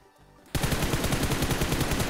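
Rapid automatic gunfire from a video game erupts abruptly after a brief quiet moment, then continues as a loud, steady stream of closely spaced shots.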